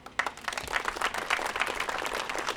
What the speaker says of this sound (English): so we can all give them a much well-deserved round of applause